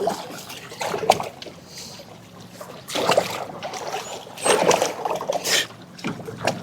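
A boat's trolling motor runs on a Wyoming creek during crawfish trapping, a steady low whir over moving water with bursts of splashing and trickling, close by and fairly loud.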